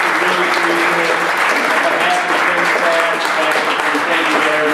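Steady, loud applause from an audience at a spring reading event, sustained clapping for the readers at close range throughout.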